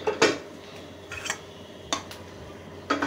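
Shrimp being stir-fried in a pan for a Bengali shrimp and yardlong bean mash, heard as a few sharp, separate clinks of a utensil scraping and tapping the pan over a low sizzle-like hiss.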